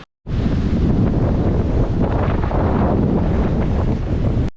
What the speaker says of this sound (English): I don't know how well you can hear me with all this wind.